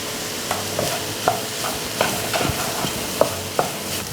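Okra frying in a pan with salt while being stirred, a moderate sizzle under repeated sharp scrapes and taps of a spatula against the pan at an uneven rhythm.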